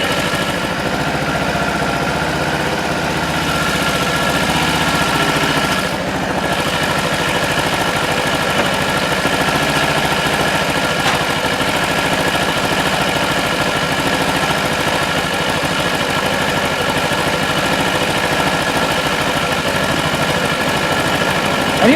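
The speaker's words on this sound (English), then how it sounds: "And you can hear the bike. It's got a... yeah, it's not happy." A motorcycle engine idling roughly while its carburettors are being synchronised, a loud, close, continuous uneven throb with slight wavering and no pause, and no one talking.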